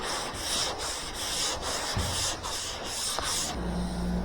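Sanding a large car body panel by hand, a continuous scratchy rubbing in repeated strokes, close and steady, with a low thump near the end.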